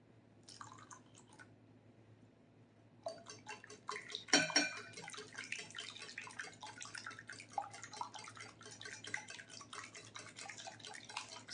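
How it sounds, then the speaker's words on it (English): A whole can of evaporated milk is poured into an egg custard pie filling, a thin trickling, dripping liquid stream with a brief clink partway through, quiet and close with no talk. "You're gonna add a whole can of evaporated milk."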